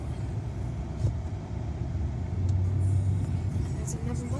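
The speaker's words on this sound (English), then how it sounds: "traffic is getting kind of heavy right now" A steady low rumble of heavy car traffic surrounds a vehicle stuck in a jam, with engines droning continuously and swelling slightly toward the end, and some voices faintly present.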